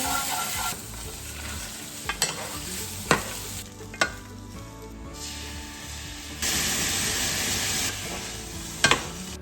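Garlic sizzles in a pan, a soft crackling hiss that swells and fades, with sharp clicks and scrapes from stirring scattered throughout.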